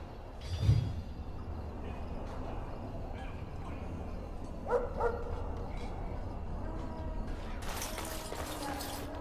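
Hounds barking in the fantasy game Dragon Age: Origins, a few scattered barks and yips against a low, steady background, moderately faint, with a sharper burst early on and another near the middle.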